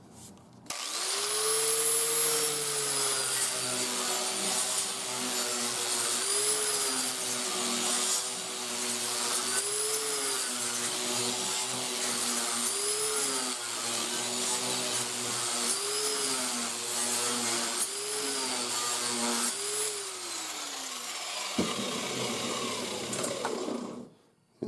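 A power tool fitted with a finishing disc puts a machined-looking sheen on metal, giving a loud, steady whine whose pitch dips and wavers under load before cutting off near the end.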